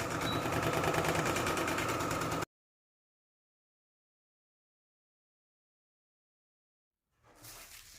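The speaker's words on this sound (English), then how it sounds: "And then you want to serge your seams." A serger runs fast, stitching fabric seams with a dense, steady mechanical whir close by for a couple of seconds. Silence follows, then a fainter rustle near the end.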